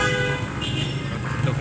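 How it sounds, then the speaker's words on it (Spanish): A car horn honks on a busy city street at night in Santiago, a steady sustained toot blended with traffic rumble and street noise, fairly close. "Tocan bocina"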